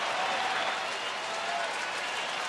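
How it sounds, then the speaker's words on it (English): Baseball stadium crowd at a Angels–Rangers game cheering and clapping to support pitcher Robbie Ross, a steady dense roar of applause with no lulls, broad and moderately distant throughout. "the crowd trying to offer some support for Robbie Ross"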